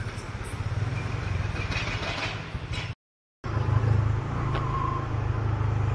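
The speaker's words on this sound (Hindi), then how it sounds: "गाड़ियाँ तो जा रही है, गाड़ी जा सकती है आगे से।" Vehicle engine rumble on a rough unpaved mountain road near Harsil on the Gangotri route, steady and fairly close throughout, with one brief dropout midway.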